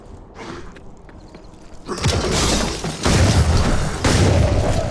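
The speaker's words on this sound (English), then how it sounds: "This is one of the only games that the shotgun really feels like a shotgun." A shotgun fires in the isometric open-world RPG DDoD: heavy, booming blasts come close and loud, with several repeated shots over steady game background noise.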